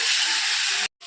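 Onions fry in hot oil with a loud, steady, close sizzle that cuts off abruptly near the end, then briefly resumes.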